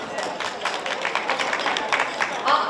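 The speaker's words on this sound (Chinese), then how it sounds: "我们掌声送给这位先生，好不好" Audience clapping fills a banquet hall at a Toronto Chinese community gala's National Day celebration, honoring the winning bidder of a painting auction; steady, dense applause with a few sharper claps and some voices mixed in.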